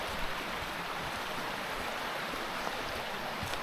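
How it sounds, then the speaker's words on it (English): Steady rush of stream water beside a forest trail at Sallochy, close and continuous with a broad, even wash and no voices. "So quiet apart from the noise of the water"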